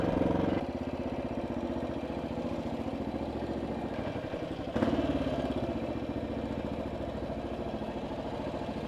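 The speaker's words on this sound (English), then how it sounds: "a little ride on an XT500, a 1979 model" A 1979 Yamaha XT500 single-cylinder motorcycle engine runs steadily at a close, loud, even chug, with a brief surge in revs midway before settling back to a constant throb.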